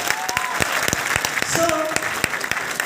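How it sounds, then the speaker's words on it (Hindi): An audience at a Hindi motivational event claps heartily, a dense and steady round of applause with sharp individual claps standing out, while a voice carries faintly over it. "सबके लिए जोरदार ताली होना चाहिए।"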